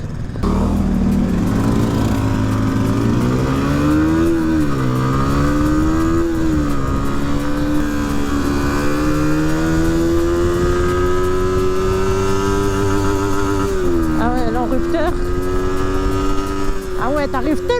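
A 125cc trail motorcycle at full throttle, its engine note rising steadily through the gears in a loud, continuous drone that dips briefly between shifts, ridden close to the microphone.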